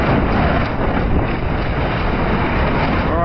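Gale-force wind roaring across a racing sailboat near Cape Horn in the Southern Ocean, with waves rushing past the hull, a loud, constant, buffeting blast with heavy microphone wind noise and no voices.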